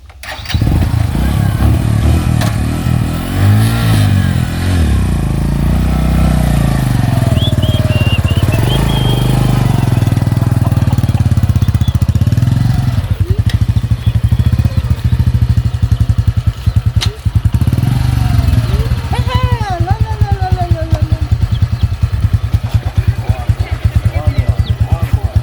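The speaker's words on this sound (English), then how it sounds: "My new motorbike, guys." A new motorcycle's engine runs loudly and steadily close by for the whole stretch, its rumble continuous beneath excited voices and background commotion.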